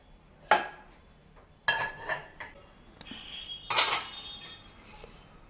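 Pots, dishes and cutlery clattering on stage as a mother character cooks in a pre-primary school annual day play: four separate sharp metallic clinks and clangs, fairly close, with quiet gaps between them.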